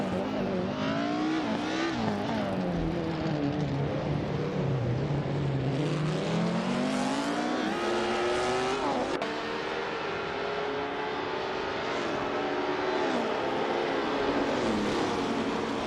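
Video game 1950s Formula 1 race cars lap the Bahrain circuit, engines whining and droning loudly as they rise and fall in pitch through gear changes and corners, several cars overlapping continuously.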